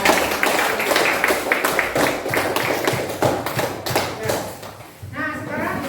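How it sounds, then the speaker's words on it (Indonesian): Classmates applaud a student group after a classroom presentation, a dense burst of close hand claps that tapers off, with a voice speaking at the very end. "Tepuk tangan untuk kelompok Mawar."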